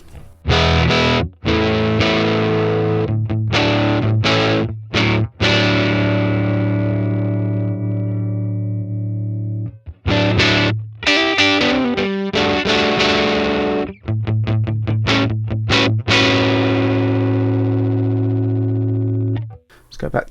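Electric guitar played through a Universal Audio Woodrow plugin emulating a 1955 tweed Deluxe amp, ringing chords and single notes with sustained, slightly distorted tone, broken by brief pauses and restarted phrases, loud and close.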